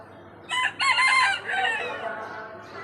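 Native chickens in a garden give loud, close crowing and clucking calls in a couple of bursts, then fainter calls trail off. No one speaks.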